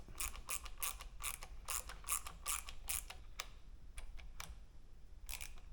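Small screws being tightened on an Indian Scout motorcycle with a ratcheting tool, giving bursts of quick close clicks and creaks, a run of them in a row, then a pause and a few more scattered clicks.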